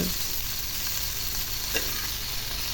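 Okra sizzles steadily in a hot pan, a constant close crackle of frying with faint stirring scrapes, no voices.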